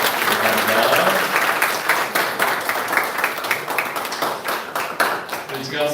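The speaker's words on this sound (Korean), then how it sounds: "우리 박수로 환영하겠습니다." A congregation applauds during a Sunday worship service at a church, welcoming visiting families with steady, fairly loud clapping that tapers off, with speech heard around it.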